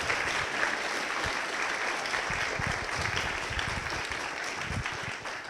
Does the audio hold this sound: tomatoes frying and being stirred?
no